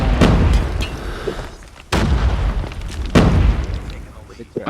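Loud video game explosions: three heavy booming blasts, each followed by a rumbling decay, with voices in the background.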